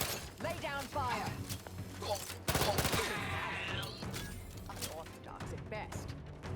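Gunfire in The Outer Worlds 2 on PS5, a dense burst of rapid shots with sharp impacts running through most of the passage, loud and close, mixed with game music and someone talking over it.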